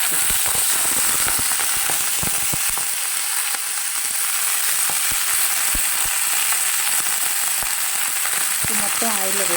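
Cumin and coriander seeds fry in hot oil in a pan for methi chutney, a loud continuous sizzle peppered with sharp popping crackles throughout.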